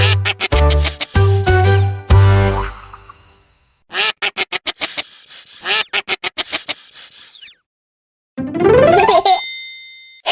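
Cartoonish duck quacks pop up over bouncy children's music, followed by a rising, squeaky quack-like effect near the end.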